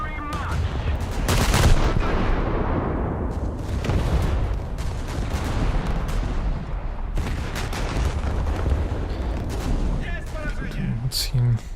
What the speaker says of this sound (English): It only has the 5-inch guns.